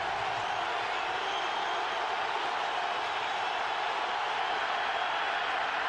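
Football stadium crowd at a Patriots at Steelers game, on its feet on third and 11, sending up a loud, steady roar of cheering and shouting throughout, with no break and no single voice standing out.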